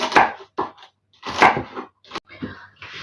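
Crisp, uneven chopping strokes of a knife through celery on a board, several cuts in short bursts with brief pauses between.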